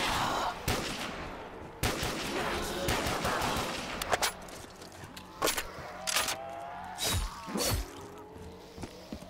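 Rapid gunfire from a gun in the Black Ops Zombies map Yukiko's Castle, dense bursts of shots early on thinning to scattered single cracks, loud and close amid game effects.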